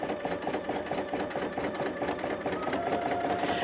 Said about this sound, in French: la machine est en train de fonctionner